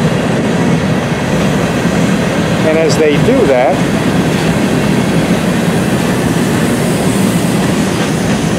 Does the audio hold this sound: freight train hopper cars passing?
yes